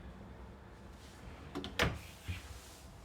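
A quiet room in a 2020 Forest River East to West 2810 KIK travel trailer, then a deep drawer slides and bumps shut with a couple of short wooden knocks, fairly close and soft.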